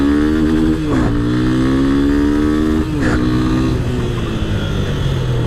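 Yamaha FZ25 motorcycle engine revving loudly and close by, with two sharp rises in pitch as it accelerates and gear changes between them, then settling to a steady drone as the bike slows.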